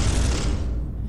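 A heavy burst of weapon fire from the Space Hulk video game, a loud dense boom with a rumbling low end that fades out over about a second.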